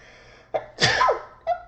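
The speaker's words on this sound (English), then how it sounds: "I feel like I have to sneeze." A single loud sneeze with a short inhale before it and a brief sniff or breath just after, close to the listener.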